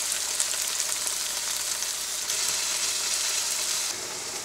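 Chicken frying in an onion and ginger-garlic masala, a steady, loud sizzle with crackling that holds throughout and eases slightly near the end, with no voices.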